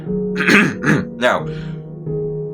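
A man clears his throat in a few rough, raspy bursts, then a low hum lingers briefly.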